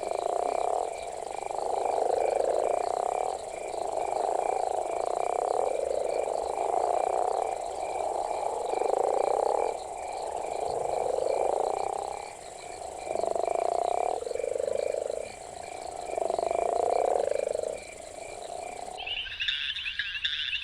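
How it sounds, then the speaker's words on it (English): A chorus of frogs gives loud, throaty mating calls in repeated bursts for about twenty seconds, with a steady high insect-like trill running underneath throughout. "frogs vocalize to call for mates"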